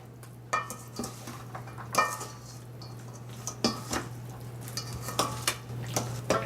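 A spoon stirs potato salad seasoned with salt, black pepper and cayenne in a bowl, making a series of close scraping clinks and soft thuds in an uneven rhythm over a low steady hum.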